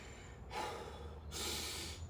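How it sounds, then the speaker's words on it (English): Two long, heavy breaths, one after the other, close and loud, with no talking, from a man catching his breath after a chest and triceps dumbbell superset. "you can hear me breathing heavy."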